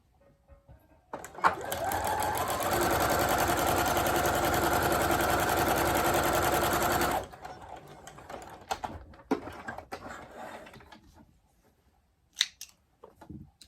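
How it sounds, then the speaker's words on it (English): Close by, a sewing machine joins two quilt fabric pieces with a quarter-inch seam, running in a steady rapid whir for about six seconds before stopping, then light handling clicks and rustles follow. "Now for the sewing machine, we're going to sew these 2 together"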